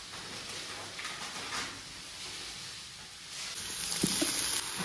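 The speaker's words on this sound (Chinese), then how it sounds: "把青椒炒一下" Green peppers stir-fried in a wok, a soft continuous sizzle with faint scraping that rises slightly toward the end, with a couple of light clinks.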